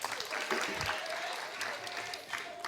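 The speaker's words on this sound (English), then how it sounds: "Give them a round of applause, man." Audience applause at a community talk event, a steady, fairly quiet wash of clapping from a crowd heard at some distance, continuing evenly throughout.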